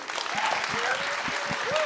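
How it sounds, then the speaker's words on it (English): Audience applause during closing remarks at a Sundance chef event, crowd clapping mixed with overlapping voices and whoops over a short stretch. "Big round of applause to Chef Bleu and Chef Johanna."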